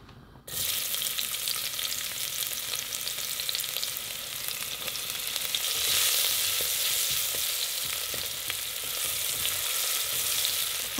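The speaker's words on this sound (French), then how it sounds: "On a laissé rissoler 1 minute à peu près les échalotes." Shallots sautéing in a pan, a steady crackling sizzle that jumps in loudly after a brief silence and keeps going, with occasional stirring scrapes and no talk.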